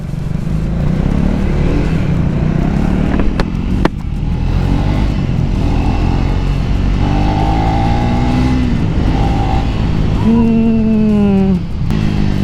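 A Triumph Speed 400 motorcycle, a 400cc roadster, rides close by with a loud steady engine drone whose pitch rises and falls through gear changes and throttle blips, running continuously.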